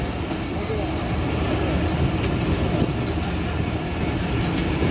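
The Rehaman Baba Express passenger train rolls along the rails near a railway workshop, a loud, steady broadband rumble and rush with no pauses, close by.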